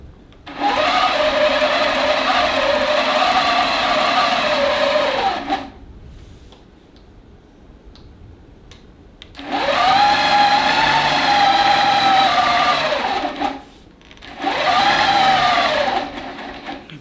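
A long arm quilting machine stitches the outside of a fabric pocket shopper tote with a loud, steady motor whir. The whir comes in three long runs separated by quiet pauses, and its pitch dips as each run starts and stops.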